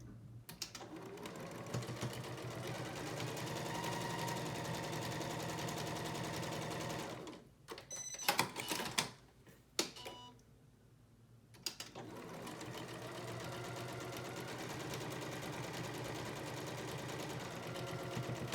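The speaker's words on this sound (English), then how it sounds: "stitch a 1/4 inch on each side of that black line" A sewing machine stitches quilt blocks a quarter inch from a marked line, running steadily and close for several seconds, pausing briefly with clicks and handling noises, then whirring on again at an even pace.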